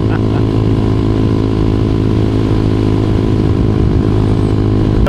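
A Honda CBR motorcycle on the road with a loud, steady engine drone and wind rumble close by, holding a constant pitch throughout.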